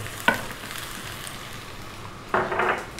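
Onion and garlic drop into hot corn oil with a sudden burst of sizzling, a brief clatter first, then a loud crackling fry near the end, close up.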